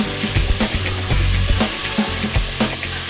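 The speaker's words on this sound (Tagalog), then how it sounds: "Palambutin lang natin ng konti yung onion. Then pwede na natin isunod yung ating tomato." Onion and tomato sauté in a hot pan for chicken binagoongan, giving a steady, loud broadband sizzle with brief stirring scrapes and clatters repeating about every half second throughout.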